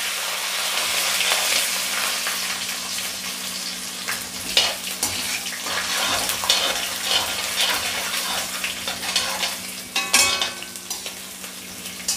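Chana dal, urad dal and green chilies fry in hot oil with a loud, continuous crackling sizzle, close by, with occasional spatula scrapes and pops and no talking.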